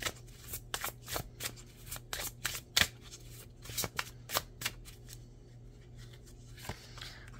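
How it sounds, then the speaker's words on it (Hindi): Tarot cards are shuffled and drawn by hand in a quiet room: a quick series of sharp, close riffling snaps and flicks, some louder than others, with soft pauses between bursts. "मैं 2 कार्ड निकालूंगी।"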